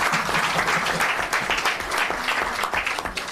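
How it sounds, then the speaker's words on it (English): Steady applause from an international conference audience, dense continuous clapping at a constant level throughout, with no voices over it. "please join me again to give them an applause"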